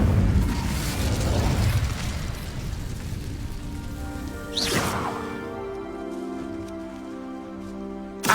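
A fire spell cast in the video game Hogwarts Legacy gives a sharp whooshing burst partway through, followed by a fading crackling hiss over a sustained musical drone.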